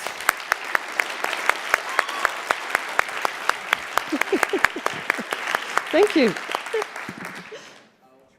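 An audience at an education conference's open-mic stage event claps, with crisp, sharp individual claps standing out over a softer crowd patter. A short spoken thanks comes near the end before the sound fades away.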